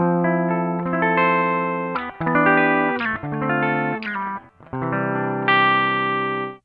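A Gibson ES-335 electric guitar on its rear pickup plays clean chords and single notes, bypassed and run through a Koch Pedaltone preamp line out. Notes ring and sustain, then break off briefly between phrases, with no voices.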